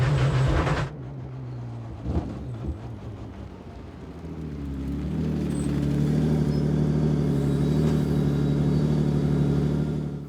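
The engine of a Renault RS01 Pikes Peak kit race car, a brief loud burst, then a deep, steady mechanical drone that builds and holds loud for several seconds.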